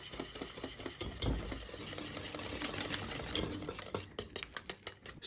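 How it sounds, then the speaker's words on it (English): Pumpkin pie filling is mixed in a bowl, with fast rhythmic scraping and tapping of the utensil against the bowl, close and continuous, then slowing into separate strokes near the end. "And keep mixing."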